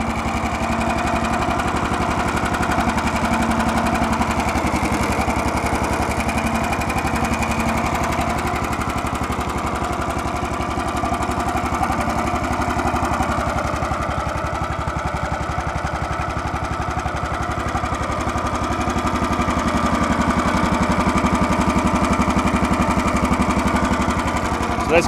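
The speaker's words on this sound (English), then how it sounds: "Okay, this is a video of my hydraulic log splitter." A homemade hydraulic log splitter mounted on an old trailer runs steadily, its small engine making a continuous mid-pitched drone with a rough, knocking edge throughout, close and loud with no talking.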